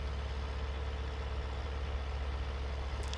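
A tractor pulling a disc harrow in Farming Simulator 2013 drones with a steady, low engine rumble, constant and close with no talk, plus a faint high chirp near the end.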